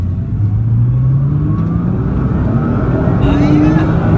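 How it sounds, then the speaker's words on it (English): A Nissan GT-R's exhaust drones loudly and steadily as the engine revs and climbs in pitch while driving, close and dominant throughout. "see what I mean about the loudness of the exhaust"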